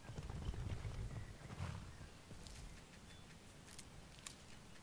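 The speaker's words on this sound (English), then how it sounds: "Exactly, horse." Horse hooves clip-clop at a steady walking pace in Skyrim, fairly close and moderately loud for the first couple of seconds, then fading into softer scuffing against low ambient rumble.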